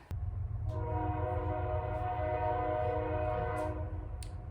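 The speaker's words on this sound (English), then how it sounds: "Train's coming." A train passes with a loud, sustained horn blaring over a deep rumbling engine, close by and continuous.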